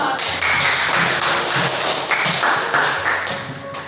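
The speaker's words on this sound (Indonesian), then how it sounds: "Beri aplaus." Students applauding in a school hall, a brief burst of mixed clapping that swells and then tapers off over a few seconds.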